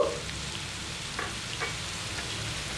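Cucumber curry sizzling and frying in a pan while being stirred, a soft steady crackle with a few faint scrapes, close and fairly quiet.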